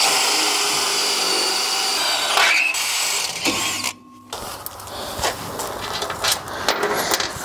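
Power drill grinding through metal with a struggling bit while outfitting a service truck, a loud sustained whine that bogs and cuts out briefly before resuming in uneven, labored surges.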